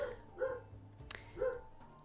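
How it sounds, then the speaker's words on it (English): A puppy dog barks and yips a few times at intervals, fairly faint and somewhat distant, with a brief sharp click in between and no speech. "I have a puppy dog who is yelling his little heart out"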